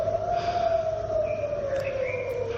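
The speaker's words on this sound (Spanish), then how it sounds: "las sirenas han vuelto a sonar" An air raid siren sounds in Eilat, Israel: one steady, slowly falling wail that carries from a distance over background noise, with no one speaking.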